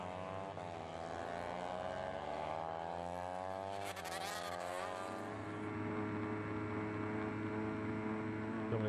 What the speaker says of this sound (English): the sound of the two-stroke of Dominic Herbertson